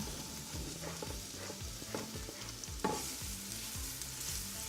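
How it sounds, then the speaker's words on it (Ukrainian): Continuous crackling sizzle of onions frying in a little oil in a pan, with a faint clink partway through and no voices. "На сковорідку наливаю небагато олії і до прозрачності жарю цибульку"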